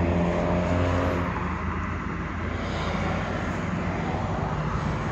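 Inside a white car driving with the window partially down, wind rush and road roar fill the cabin in a steady, loud wash, with engine drone underneath that eases slightly partway through.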